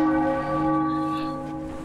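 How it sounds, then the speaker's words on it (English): A church bell rings in the Sniper Elite V2 video game, one sustained, resonant toll with a long humming ring-out that stays loud and steady throughout, with no voices over it. "Why and who would be banging that fucking bell in the church?"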